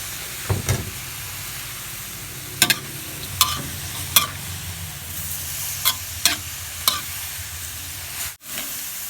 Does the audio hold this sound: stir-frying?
yes